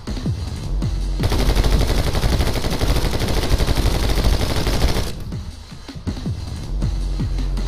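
Sustained automatic AK rifle fire in the game My Friend Pedro, a dense rapid burst lasting about four seconds, loud and close, bracketed by quieter game sounds before and after.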